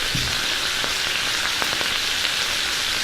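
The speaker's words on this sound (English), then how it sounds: "that's going to go straight into the frying pan" Lamb sizzles and spits steadily in a hot frying pan, a close, continuous crackle with a few sharper pops and no talking.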